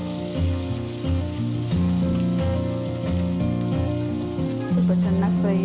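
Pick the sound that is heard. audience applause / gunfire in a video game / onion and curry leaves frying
onion and curry leaves frying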